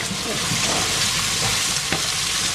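Onions stir-frying in a pan before garlic goes in, a dense, steady sizzle with soft scraping of stirring, close and continuous.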